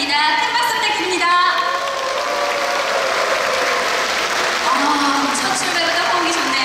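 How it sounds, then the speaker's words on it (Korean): At the opening of a choir festival in a Suwon outdoor concert venue, a crowd applauds in a broad, sustained wash of clapping, with a voice and tonal sounds over it. "큰 박수 부탁드립니다."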